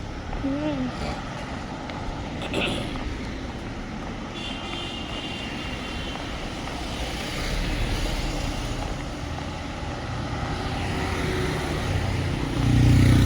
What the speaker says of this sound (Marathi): किती गाड्या लागलेल्या असतात